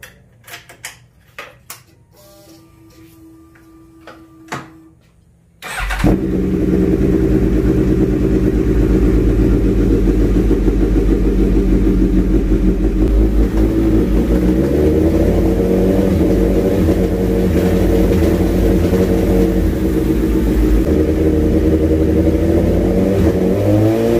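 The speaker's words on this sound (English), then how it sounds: "I'm just gonna wait to turn the bike on." Suzuki GSX-S1000 motorcycle engine with a newly installed clutch fires up after a few faint clicks, then settles into a loud, steady idle that runs on continuously.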